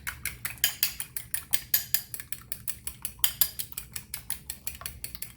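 Eggs being whisked in a bowl for a pecan pie, a quick run of light metallic ticks and scrapes from the whisk against the bowl, steady and close up, with no voices.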